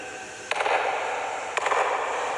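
Two sharp hand claps about a second apart ring out inside the judgment hall of Golconda Fort, each followed by a lingering echo off the stone walls.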